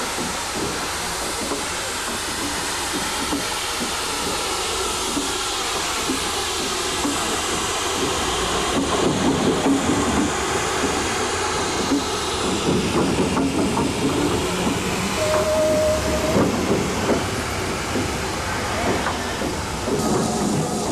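Steady rumbling hiss of a Class B4 0-4-0 steam tank locomotive shunting at close range, with chuffing and clanking of moving wagons, and a brief whistle tone near the end.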